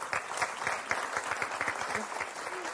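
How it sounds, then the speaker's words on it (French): Studio audience of the French game show Motus applauds steadily for about three seconds, a dense, even wash of clapping with no voices on top. "on va l'applaudir très fort"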